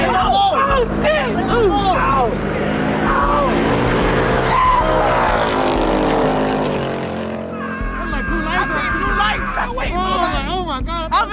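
A Dodge Hellcat spinning out, with long, loud wailing tire squeals and a roaring engine that rise and fall over about eleven seconds while excited people talk and shout nearby.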